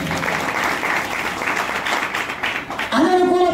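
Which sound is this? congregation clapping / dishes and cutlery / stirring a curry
congregation clapping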